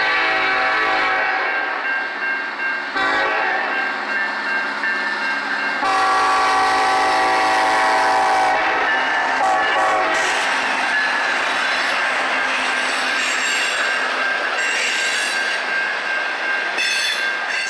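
Norfolk Southern NS 708 freight train led by the Savannah and Atlanta heritage unit rolls past a depot at night, a loud continuous rumble of wheels and cars with squealing tones and horn-like notes throughout.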